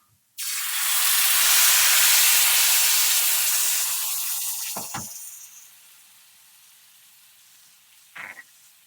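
Ridge gourd tipped into a pan of onions and asafoetida gives a sudden loud, broad sizzle. It fades steadily over several seconds, with a couple of short clatters of a utensil toward the end.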